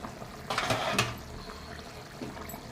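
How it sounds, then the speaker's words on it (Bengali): Curry bubbles at a boil in an uncovered pot: a brief, soft burst of bubbling and gurgling close by, then a quieter simmer. "তরকারিটা আমার ফুটে উঠেছে"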